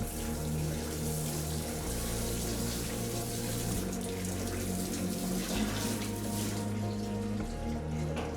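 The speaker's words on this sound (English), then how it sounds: "I might go turn the hose on and see how they drain" Water from a hose drains and trickles through drilled holes on a boat, a steady splashing, running flow with no break, moderately quiet and close.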